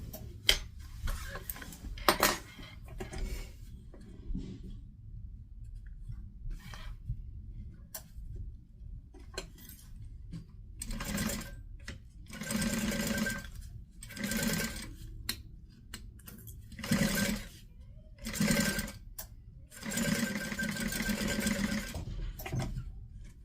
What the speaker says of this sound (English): And then I'm going to sew this at a 1/4 inch seam allowance.